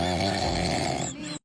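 A person snoring heavily at night, a loud rasping, harmonic drone that cuts off abruptly at the end.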